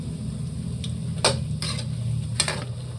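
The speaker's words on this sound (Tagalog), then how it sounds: "Haluin lang po natin mga idol ng konti." Meatballs stirred in a sizzling frying pan, a steady fry hiss under several sharp scrapes and clinks of a utensil against the pan, close and clear, with no talking.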